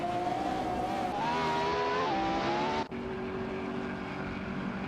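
Race cars in a video game, including a Nissan GT-R Nismo and a Koenigsegg Agera RS, a loud sustained engine whine that rises in pitch, then drops abruptly after a gear change and carries on steadily.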